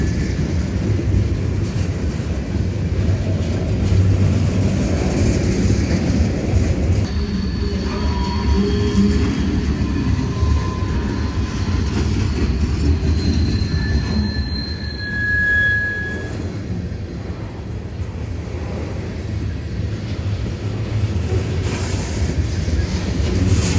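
A Union Pacific train rolls along the rails through the Cascades east of Eugene, running under a speed restriction. It gives a steady, loud rumble of wheels with faint squeals and tonal whines riding over it, and no voices.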